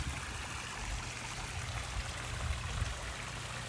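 A koi pond aerator churns water in a steady, continuous rush and trickle, close by and without talk.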